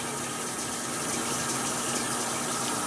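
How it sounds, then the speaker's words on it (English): Warm tap water runs steadily from a faucet for hand washing, a constant close hiss and splash with no pauses. "wet your hands with warm running water"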